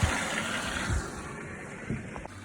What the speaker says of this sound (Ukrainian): Наповняємо водичкою.